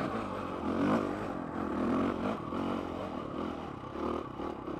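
A dirtbike rolls over the rocky Hell's Revenge trail in Moab, Utah, its engine droning and rising in uneven surges while tires scrape and clatter across the stone close to the microphone.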